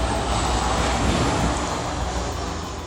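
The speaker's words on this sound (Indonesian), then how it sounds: "Pesawat lagi ini." An airplane passing overhead, a loud, continuous broadband roar that holds steady and eases off slightly toward the end, with no talk over it.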